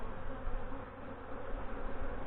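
Honey bees swarming around an opened hive during an inspection, a dense continuous buzz close to the listener, steady and moderately loud with no voices.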